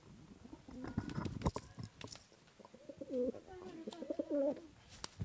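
Pigeons cooing close by in low, rolling warbles, mixed with soft rustling and scattered clicks; a person speaks briefly early on.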